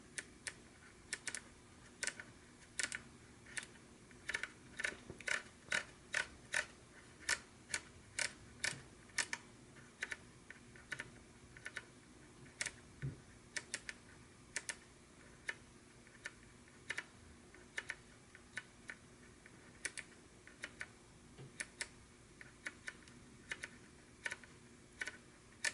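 Sub dial on a DSTE battery grip for a Nikon D600/D610 being turned, giving a long run of crisp, close, quiet detent clicks, some in quick bursts and others spaced out, with no talking.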